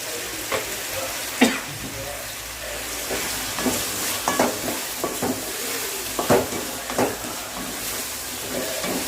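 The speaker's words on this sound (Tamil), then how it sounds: "எண்ணெயிலே கொஞ்சம் வதங்கணும்" Eggplant sautéing in oil in a pan for a spicy kara kulambu, giving a steady close sizzle and hiss broken by several sharp scrapes and clinks of a spoon stirring against the pan.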